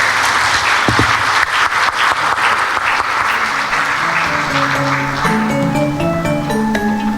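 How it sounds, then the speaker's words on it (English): An audience at an education conference keynote applauds loudly and steadily, a dense sustained clapping that carries on as soft music begins rising underneath toward the end. "please give applause once again for the first session for the second day of the International Conference on Assessment and Learning 2022"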